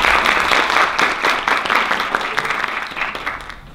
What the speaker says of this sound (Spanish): la más cordial bienvenida a Marcela Momberg, un gran aplauso